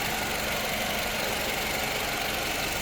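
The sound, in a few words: 2011 Toyota Camry XLE 4-cylinder engine idling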